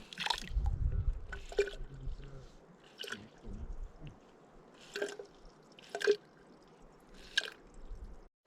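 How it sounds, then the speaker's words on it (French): A small MSR hand pump draws river water through a filter, giving repeated squelching, dripping strokes at an irregular rhythm, close and fairly faint. "J'ai une petite pompe MSR qui permet de filtrer l'eau. Et voilà, on va filtrer l'eau de la petite rivière"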